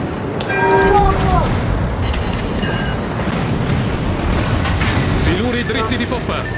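Naval cannon fire in a warship video game, heavy booming blasts under a continuous rumble of battle noise, with someone talking excitedly over it.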